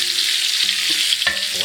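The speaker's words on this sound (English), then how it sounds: "I'm just letting this kind of sizzle and caramelize before we put in the fish heads." Parsnips, dried chili peppers, celery, ginger, Italian seasonings, black pepper and salt sizzle steadily in a hot pot for fish stock, making a loud, continuous hiss and crackle close up, with a brief stir or clank near the end.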